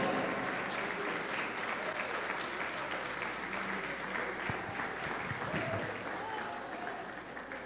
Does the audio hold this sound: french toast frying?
no